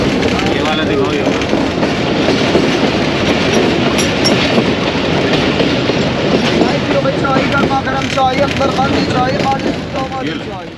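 Jaffar Express train running from Sukkur to Quetta, a loud continuous rumble of the moving carriages with rhythmic wheel clatter and occasional higher squeals, heard from inside the train; voices mix in at times.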